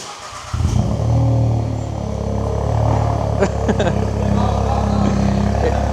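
A Volkswagen Up GTI with a dual-exit straight pipe exhaust fires up from cold, a sudden loud start settling into a deep, rumbling idle with rising revs, heard close by with people talking over it.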